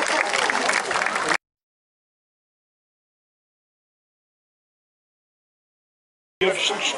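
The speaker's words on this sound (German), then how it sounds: "Applaus, bitte" Crowd applause at a castle festival with a falconry display: dense clapping for about a second and a half, then a long stretch of silence, then clapping resumes briefly at the end.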